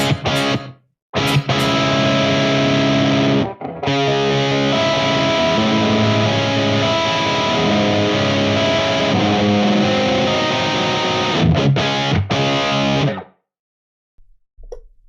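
Distorted electric guitar chords through a boost pedal ring out loud and sustained through an amp, with a couple of brief pauses before a final chord fades to silence.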